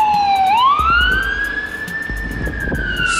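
An ambulance siren wails close by in traffic, its tone sweeping up and then holding a long rising pitch over a steady rumble of passing vehicles, loud and continuous.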